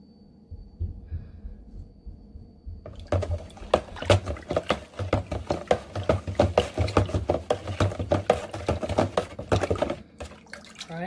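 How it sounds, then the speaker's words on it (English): White overproof rum is stirred into a Jamaican sorrel drink flavored with ginger and cloves, giving a rapid series of close, rhythmic spoon clinks and liquid swishes against the container that last for about eight seconds. "two cork size of this white overproof rum, and stir"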